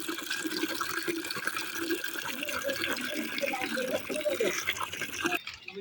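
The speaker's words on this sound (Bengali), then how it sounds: "বালতিতে জল ভরে নিই" Water runs from a tap into a bucket with a steady splashing rush that stops abruptly near the end, while a voice talks over it.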